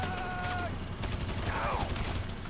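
Gunfire in GTA Online during the Super Yacht Icebreaker mission, scattered rapid shots crackling around a player under fire from several attackers, mixed with other game sounds and whistling tones.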